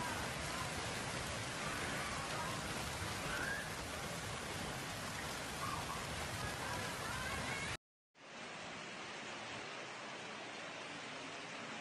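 Torrential rain from a powerful Atlantic storm with hurricane-force winds across Europe, a dense unbroken roar that cuts out briefly and resumes at a lower level.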